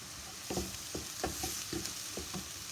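Onions with berbere spice and salt frying and being stirred in a pan for an Ethiopian lentil sambusa filling, a steady sizzle broken by repeated soft scraping strokes of the spoon, close and with no voices.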